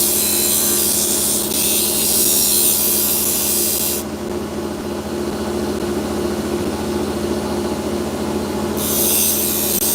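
Opal polishing on a lapidary machine produces a loud, steady motor hum with a constant whirring drone, with a hissing wet-polish layer at the start and again near the end.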